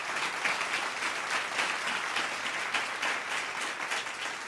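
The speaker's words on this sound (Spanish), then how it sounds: "Dale un aplauso al Rey si puede" A church congregation applauds steadily, with sustained dense clapping at moderate distance and no voices over it.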